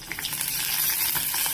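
Green chillies crackle and sizzle as they fry in hot oil, a close, steady frying hiss broken by sharp popping bursts, with no talking.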